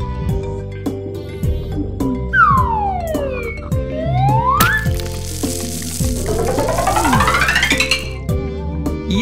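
A cartoon police car siren wails in rising and falling sweeps, loud and close, over a bright children's music backing.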